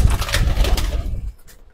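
Racing pigeon cooing up close, a loud, throaty burst of low, rolling coos that fades out after about a second, with no voices over it.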